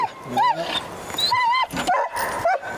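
Several dogs barking, yipping and whimpering close by in a rural outdoor setting, in overlapping bursts.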